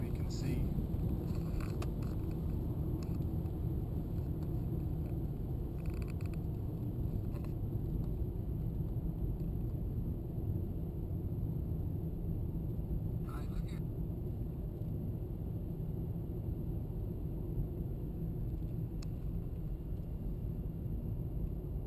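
Steady interior road rumble of a car driving across Nevada toward the Bundy Ranch, a constant broad drone that holds level throughout with no breaks, heard from inside the vehicle.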